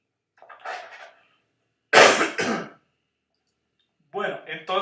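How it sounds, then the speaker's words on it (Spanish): A lecturer in a time series and inventory forecasting course coughs hard twice, close to the microphone, with brief talking just before and after the coughs. "ya me está agarrando tos"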